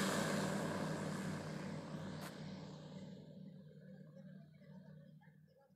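A small two-seat light aircraft engine drones steadily with a broad, rough roar, loudest at first and then slowly fading as the plane climbs away.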